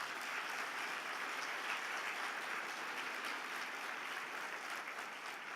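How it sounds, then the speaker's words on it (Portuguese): A church congregation applauds steadily through a Sunday service, with dense, even clapping at moderate level throughout and no speech. "Então dê um aplauso a Jesus."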